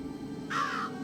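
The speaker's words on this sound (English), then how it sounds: "Be careful, Mr. Crow" A single crow caw sounds in the graveyard scene of the video game Jenny LeClue, a short harsh call over a faint low background hum.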